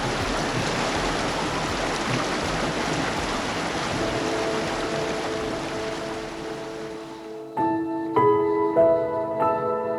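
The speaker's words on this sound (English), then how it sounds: "It's going to give it a different flow, a different energy" River water flowing past ice rushes in a steady broadband wash, then cuts off abruptly near the end, replaced by a few clear tonal notes.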